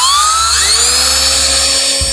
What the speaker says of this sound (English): I've got this set of steel brushes that you can put in a drill.